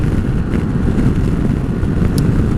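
A brand-new SYM GTS125 scooter, still in its break-in period, climbs uphill at speed; a loud, steady engine drone mixes with heavy wind rush, and no one speaks.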